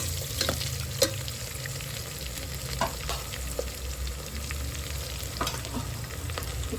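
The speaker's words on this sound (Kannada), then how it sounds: "ಸ್ವಲ್ಪ ಆಯಿಲ್ನ ಹಾಕೊತಾ ಇದ್ದೀನಿ ಸ್ವಲ್ಪ ಹಾಕ್ಕೊಂಡು ಒಂದು ಸರಿ ರೋಸ್ಟ್ ಮಾಡ್ಕೊಳ್ಳಿ" Biryani ingredients roasting in a little oil, a steady close sizzle and crackle with occasional stirring scrapes, no voices over it.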